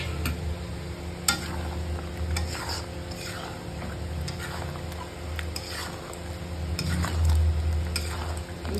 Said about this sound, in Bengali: মশলাটা যাতে পুড়ে না যায় তার জন্য একটুখানি জল অ্যাড করে দিয়ে দেব